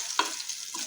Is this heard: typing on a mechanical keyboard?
no